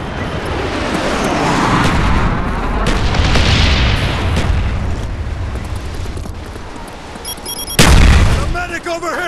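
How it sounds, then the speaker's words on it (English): Napalm strike explosions in a first-person shooter, rolling booms and roaring bursts filling the whole clip with a sharper blast near the end, loud and dense, with faint in-game voices mixed in. "Enemy napalm strike incoming!"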